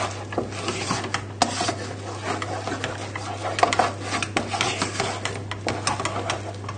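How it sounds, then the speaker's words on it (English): Milk being stirred into mashed potatoes in a pan over very low heat: close, continuous scraping and rubbing with irregular clicks and knocks and a steady low hum underneath. "just stir the milk in"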